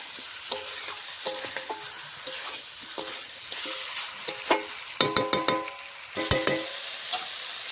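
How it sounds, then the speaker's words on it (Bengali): Chicken pieces being stir-fried for Bengali chicken kosha in a pan, with a soft sizzle under repeated sharp scraping and clacking of a spatula, bursts clustering toward the end. "মাংসটা এখন ভালো করে কষাবো।"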